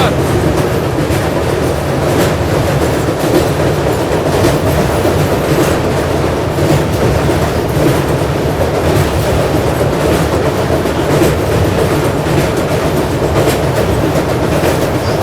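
The AP Express rumbles loudly and continuously across the Narmada river bridge, wheels clattering in a steady rhythmic beat from on board.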